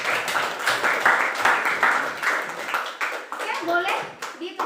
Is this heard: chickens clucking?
no